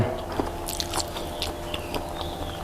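Crisp bites and crunching into a fresh, soft pandan rolled wafer (thong muan), a few close, light bursts spread through a quiet room with no talk.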